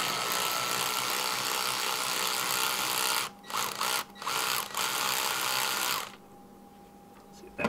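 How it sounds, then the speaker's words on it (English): A hand ratchet loosens the air cleaner band clamp on a 2020 Ford Mustang with a close, continuous clicking that breaks briefly twice, then stops abruptly about six seconds in, leaving a quiet tail. "we're going to disconnect the air cleaner line, and that's by this band clamp right here."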